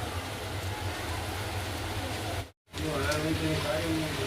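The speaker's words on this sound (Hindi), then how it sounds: "बारिश तो तेज होने लगी है" Steady heavy rain hissing outdoors, a dense even wash of noise that drops out briefly before resuming.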